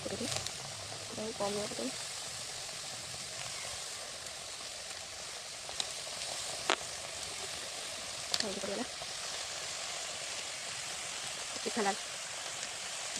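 Potato and egg frying in hot oil, a steady broadband sizzle that holds throughout, with brief louder pops and crackles and a voice talking over it at moments.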